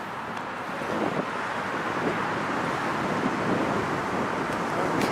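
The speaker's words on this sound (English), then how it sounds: "Woo, windy." Wind blusters steadily at LAX airport, a broad continuous rush buffeting the microphone, with faint traffic hum beneath it and no voices.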